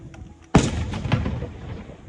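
A single firework goes off with a sharp, loud bang, followed by crackling bursts and a rumbling tail that fades slowly, with no one talking.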